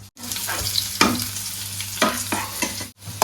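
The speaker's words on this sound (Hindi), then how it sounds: "दाल में लगेगा तड़का, ये डल चुका है जीरा" Cumin seeds fry in hot oil for a dal tempering, a close, steady sizzle with sharp crackling bursts and a few stirring scrapes, heard alone.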